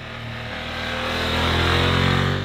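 A 2024 BMW F 900 GS motorcycle engine revs up under throttle in second gear while riding, a close, loud, rising drone swelling steadily without speech.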